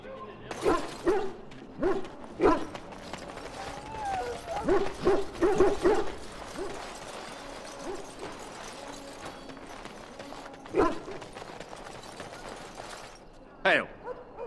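Hounds barking in a kennel in Dragon Age, several sick from Darkspawn blood, giving short scattered barks and yips across the scene, mid-distance and moderately loud, with background game noise and talk woven between them.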